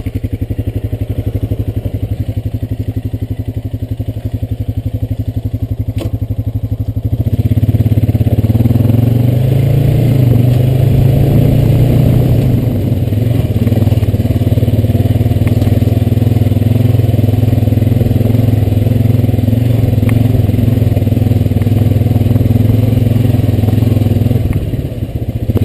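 Honda Rancher ATV engine running steadily as it rides along a path after weeks of rain, a loud close mid-pitched drone that rises in revs around the middle and holds, with occasional clatter and thumps.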